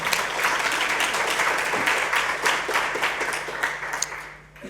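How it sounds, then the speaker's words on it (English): Audience at a talk on knowledge translation claps together, a brisk dense burst of applause that gradually thins and fades toward the end, with no one speaking over it. "I think that deserves a round of applause."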